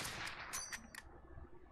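A quick burst of about four sharp gunshots in the video game Warzone cracks out in rapid succession, fairly faint, followed by a brief metallic ring and quiet.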